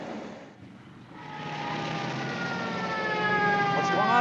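A police car siren wails and rises in pitch, growing louder as it approaches, its tone sweeping upward over a steady engine-like drone.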